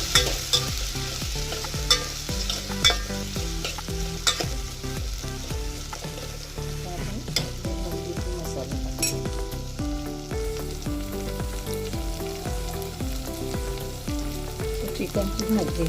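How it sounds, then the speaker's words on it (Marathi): Ginger-garlic paste sizzles and fries in a pan for a Maharashtrian chicken rassa curry, a steady bubbling hiss with frequent stirring scrapes and clinks of a spoon, close and continuous with no talking. "दीड चम्मच आलं लसूणची पेस्ट टाकली. आता हे व्यवस्थित शिजवून घेऊया."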